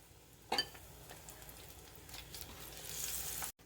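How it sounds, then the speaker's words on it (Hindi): Potato pakoras in batter frying in hot oil, a steady soft sizzle with a brief louder crackle near the start and a rising hiss toward the end, no voices. "और कुछ हम इसमें से आलू के भी पकोड़े इस तरह से फ्राई कर लेंगे।"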